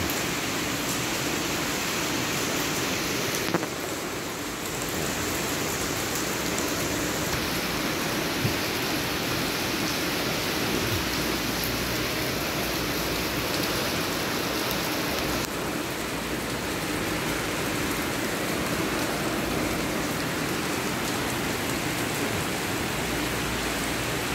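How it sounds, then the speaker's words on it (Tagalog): Heavy rain pours down steadily in Legazpi City, a dense, loud, continuous hiss of drops drumming on surfaces with no talk, its intensity shifting slightly as the downpour strengthens. "Ulan, lakas ng ulan."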